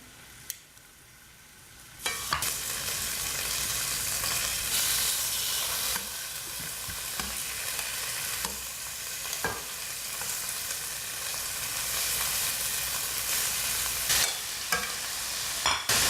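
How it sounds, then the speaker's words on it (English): Chicken strips sizzle loudly in a hot pan, a constant crackling hiss that starts abruptly after a quiet moment, with occasional clinks and pops. "Hot pan, you can hear them sizzling."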